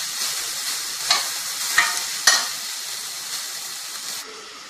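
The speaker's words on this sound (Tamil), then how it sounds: "இந்த காய் நல்லா வதங்கட்டும்." Mixed vegetables sautéing in a pan for foxtail millet fried rice, a loud bright sizzle with three sharp utensil clacks against the pan, gradually settling toward a softer hiss.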